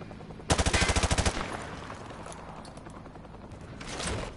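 One rapid machine-gun burst of about a dozen evenly spaced shots on a Modern Warfare 2 firing range, loud and close, followed by quieter ambient range noise and a faint rumble near the end.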